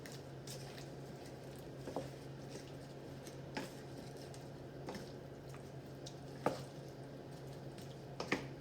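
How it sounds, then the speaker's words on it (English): Ground beef mixture stirred in a pan for homemade Hamburger Helper, soft wet squishing and scraping in occasional strokes over a low steady hum, quiet and close. "what I'm going to do is stir this up so that way everything gets nice and mixed together here"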